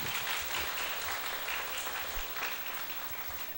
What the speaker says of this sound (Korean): 참 잘했다고 다들 잘했다고 큰 박수 한번 해주시기 바랍니다